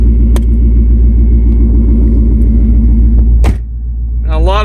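Supercharged 1000+ hp 2012 Ford Mustang GT convertible idling with exhaust cutouts open, a loud, deep, steady rumble up close, with a brief click and a short lull before the lumpy idle returns.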